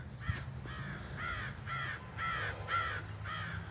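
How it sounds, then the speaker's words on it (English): Crows caw repeatedly in Union Cemetery in Fort Edward, New York, with about seven harsh, evenly spaced calls in a steady rhythm, fairly close and clear over light outdoor background noise. "Yeah, the crows, there they are."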